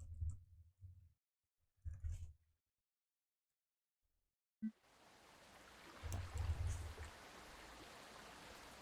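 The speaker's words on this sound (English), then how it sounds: "Big water sounds." Water ambience from the video game Moon Hunters: low watery bursts early on, a short silence, then a sharp splash-like onset followed by steady rushing water that swells louder midway and continues to the end.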